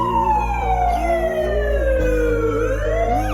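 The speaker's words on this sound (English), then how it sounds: "Teacher quickly called an ambulance and took Kitten to the hospital" An ambulance siren wails loud and close, its tone sweeping down and back up continuously over a low vehicle rumble, with no talking.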